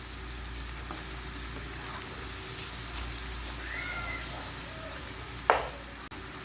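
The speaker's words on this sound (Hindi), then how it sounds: "अदरक लहसुन का पेस्ट इसके अंदर मैं शामिल कर दूंगी अब। बस इसको अच्छी तरीके से कुक करूंगी मैं अब।" Ginger garlic paste fries in a pan for chana daal, a steady close sizzle and crackle with a brief scrape or stir near the end.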